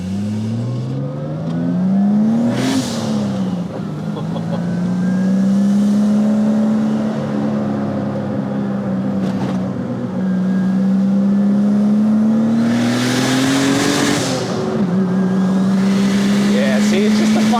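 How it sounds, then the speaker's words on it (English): Turbocharged BMW E30 wagon engine rising through the revs with gear changes, steady loud drone climbing in pitch, heard from inside the car with people talking over it. "You had me at turbo sounds."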